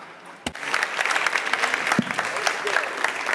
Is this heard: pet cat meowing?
no